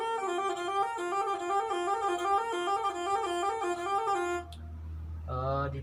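Rabab bowed with the two stopping fingers spaced too far apart, producing a long wavering bowed tone with a busy harmonic stack, then a brief break and a new, higher bowed note near the end; close and alone.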